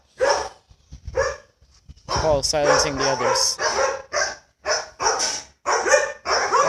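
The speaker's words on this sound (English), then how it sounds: "Is there another dog back there?" Dogs bark in a string of loud, close yips and barks, with a higher whining bark in the middle, while people talk over them.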